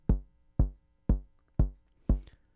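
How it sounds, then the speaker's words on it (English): Five deep synthesized kick drum thumps at an even, steady pulse, each with a short decaying boom, nothing else between them. "let's just set the kick drum to play on every other gate"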